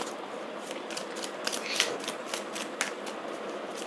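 Tarot cards being shuffled, a run of quick papery riffles and flicks repeating in short bursts, close and moderately loud, with no talking.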